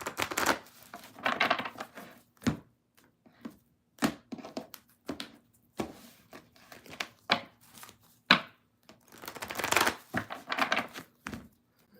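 A tarot deck is shuffled up close in a quiet room, with short papery riffling bursts and taps repeating irregularly and separated by brief pauses.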